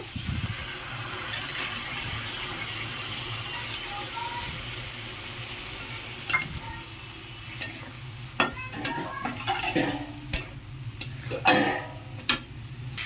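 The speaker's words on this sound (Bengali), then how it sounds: "এখন তরকারিটা একটু ভালো মতো ভাজা ভাজা করে নেব।" Close, continuous sizzling of a vegetable curry frying in a pan, with a run of sharp scraping stirs and clinks growing busier toward the end.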